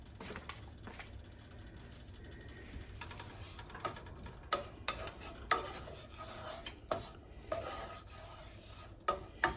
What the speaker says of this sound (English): we're just gonna saute it for a few minutes until it's kind of translucent